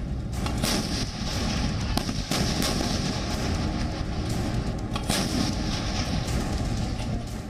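Indian Army artillery guns firing at the Devlali School of Artillery: dense, continuous booming and rumbling with sharp cracks layered over one another, loud and sustained with no voices.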